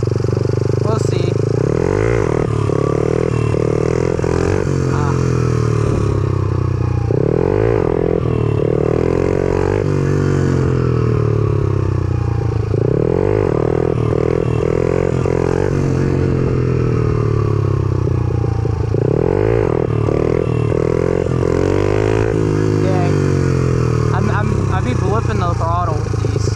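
Motorcycle engine on the move, a sustained close drone that rises and falls repeatedly as the throttle is worked, with wind and clatter mixed in and talk running over it.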